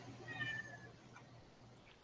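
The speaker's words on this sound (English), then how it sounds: "someone's kitty cat is making noise." A cat meows once, a drawn-out tonal cry heard faintly in the background of a quiet room, followed by a sharp brief click at the end.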